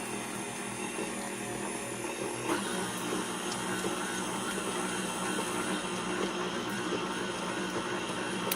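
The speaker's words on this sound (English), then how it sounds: "I'm going to turn on the mixer. See what it does to cream this butter." A stand mixer with a flat beater creams butter in a steady, continuous motor whir that holds at an even level throughout, close and fairly loud, with no talking.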